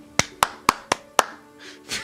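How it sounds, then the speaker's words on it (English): Five crisp claps land in an even rhythm, close and fairly loud, followed by a couple of softer, blurred claps. "People clap."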